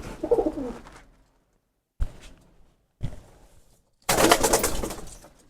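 A black-necked pigeon gives short bursts of close cooing, separated by silent gaps, ending with a louder burst of bird sound and rustling.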